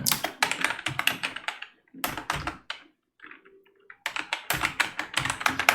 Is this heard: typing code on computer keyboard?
yes